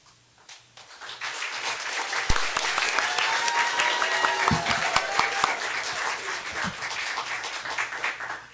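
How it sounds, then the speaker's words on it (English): A school board meeting crowd claps and cheers for a public speaker, applause swelling after a quiet start into a sustained wash of clapping with scattered shouts and whoops, fairly close in the room. "Got a little bit of a cheering squad here"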